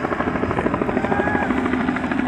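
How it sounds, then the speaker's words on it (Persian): Helicopter hovers over a mountainside during arrests, its steady rotor thump and engine drone holding loud and unbroken throughout. "این هم هلیکوپتر یگانه که اومده دامنه کوهی که چند نفر بازداشت کردن"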